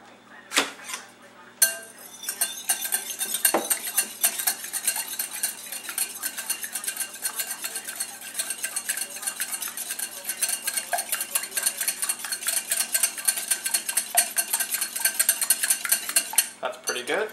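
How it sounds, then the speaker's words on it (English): Eggs are beaten together in a bowl, with a fast, steady run of clinking whisk strokes against the side that keeps going close and clear for a long stretch. "Always beat the eggs first."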